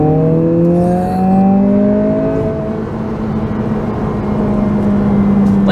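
A 2023 Honda Civic Si with a manual gearbox pulls hard in second gear, its engine note climbing steadily in pitch, loud and close from inside the cabin, with no talking.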